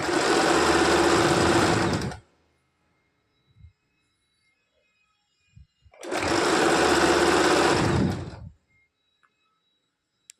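Sewing machine stitching a blouse hem, two loud bursts of rapid mechanical whirring, each about two seconds long, separated by near silence with faint handling clicks.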